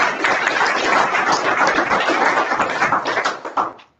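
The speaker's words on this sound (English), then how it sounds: "So a round of applause for our panelists" Audience in a Berkeley County, West Virginia community forum on growth and infrastructure applauds the panelists, a dense, even wash of clapping for a few seconds that thins and fades out at the end.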